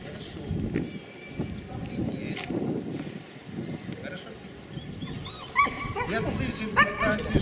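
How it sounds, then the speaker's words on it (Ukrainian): A dog whimpers and yips in high, wavering cries over a steady rumbling background, with the whines growing more frequent toward the end. "Це вже собака скавочить"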